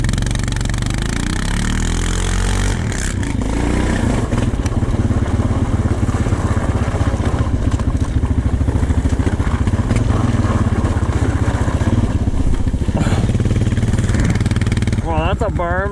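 Honda TRX450 ATV in fourth gear spinning its tires in snow, the engine loud and close as it revs hard and surges through the whole stretch, with a rider's voice heard over it.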